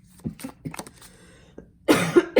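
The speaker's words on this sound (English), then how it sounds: "As I'm sitting here coughing, I'm sorry." A few small clicks and throat sounds lead into a loud, harsh cough near the end, close to the microphone.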